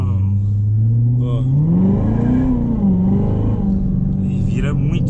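A Corvette engine revs up and settles back down in a continuous close rumble, with someone talking over the engine noise.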